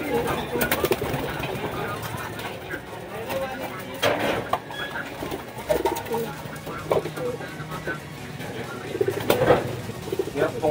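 Racing pigeons cooing in a loft during a fancier's visit, soft repeated coos mixed with wing flutters and clattering of feeders, with people talking nearby.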